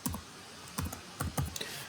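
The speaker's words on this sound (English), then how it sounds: "up here in the bar, which you can't see, the URL bar, I'm typing" Keystrokes on a computer keyboard entering a server's IP address into a browser URL bar, a few quiet clicks in short clusters separated by pauses, close and faint over a low background hum.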